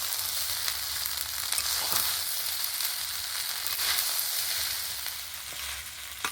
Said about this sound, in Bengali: এবারে আবারও ভালো করে নেড়ে চেড়ে মিশিয়ে নেব।